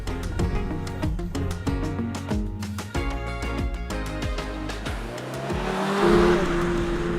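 A 2022 Toyota GR 86 sports car on a racetrack, its engine droning and climbing through repeated upshifts, each gear change marked by a brief dip, then a rising, whining rev toward the end; no talking.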